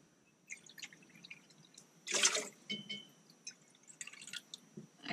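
Water pours from a half-cup measuring cup into a cooking pot inside an RV kitchen, a brief splashing burst in the middle, with faint drips and small clinks before and after.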